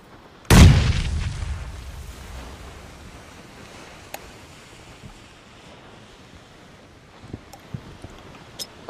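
A grenade detonates in a competitive video game match: one loud, close blast near the start, followed by a long rumbling decay into quiet ambience with a few faint ticks, and no talking.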